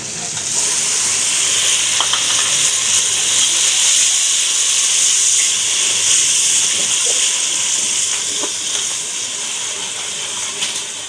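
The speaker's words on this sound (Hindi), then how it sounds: "अब हम इसमें प्याज और अदरक और सूखी धनिया का पेस्ट डाल देते हैं।" Onion, ginger and dried coriander paste sizzling and frying in a pan for paya, a loud continuous hiss with steam and occasional crackles and stirring ticks, steady throughout with no talk.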